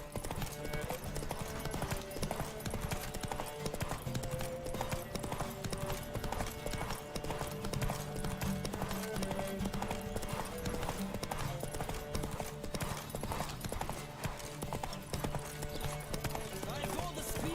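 Rapid hoofbeats of galloping horses pound steadily in The Witcher 3: Wild Hunt on PC, mixed with game music and voices talking over the continuous clatter.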